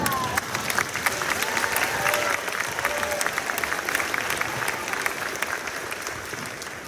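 An audience applauds at a school honor choir concert, with sustained, loud clapping from a full crowd throughout and a few cheers mixed in.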